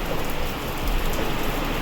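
Steady rain pouring down, a dense continuous hiss of drops on surfaces, fairly loud and even throughout.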